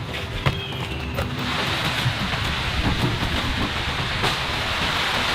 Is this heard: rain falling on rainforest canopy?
yes